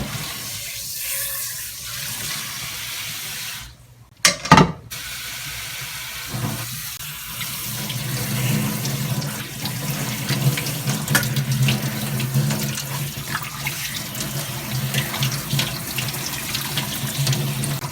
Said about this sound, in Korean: 찬물에 식혀야 돼요